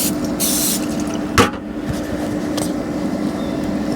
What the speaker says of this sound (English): Give a little spray top and bottom.